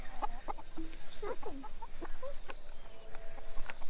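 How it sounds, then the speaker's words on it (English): Several chickens cluck softly nearby in short, scattered calls over a quiet outdoor background. "while the chickens are finishing up that treat"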